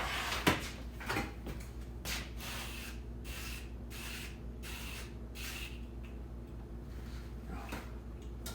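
Several short hisses of duck fat cooking spray in a home kitchen during meal prep, a few separate bursts with brief pauses between them, close and moderately quiet over a low steady background hum.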